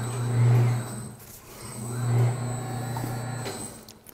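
A Maxx leverless tire changer turns a 40ZR18 tire to lift off its bottom bead, giving a close steady mechanical hum that swells twice with the rotation.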